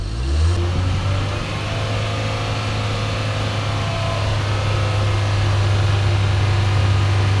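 A Toyota Corolla 2E engine with a smoking, oil-burning fault is revved hard and held at high speed in a garage, a loud, steady, close drone that stays up without easing off for several seconds.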